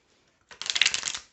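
Amethyst Love Oracle cards being shuffled, a single short papery riffle that lasts about a second. It is close and moderately loud, with no talk.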